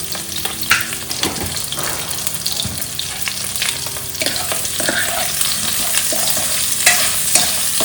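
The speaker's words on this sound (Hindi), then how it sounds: "और इसे थोड़ी देर फ्राई करेंगे।" Yam curry fries loudly in a pan, a dense crackling sizzle with repeated scraping stir strokes and clinks throughout.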